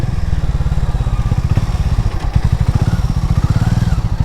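A new motorcycle being ridden, its engine thumping in a fast, even, pulsing beat at close range, steady and loud with no talk.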